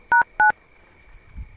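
Two short, clean telephone keypad tones beeping in quick succession, close and clear, followed by quiet with a faint low thump.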